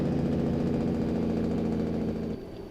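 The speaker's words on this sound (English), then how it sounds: "Yeah, let's use the old engine brake." A truck's engine brake in American Truck Simulator, on a downhill forest road in New Mexico, produces a loud, steady, low rumbling drone that holds evenly and then drops slightly in level near the end.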